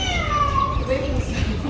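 A cat meows in a building with restaurants, a couple of thin, wavering cries heard at a distance while people talk nearby.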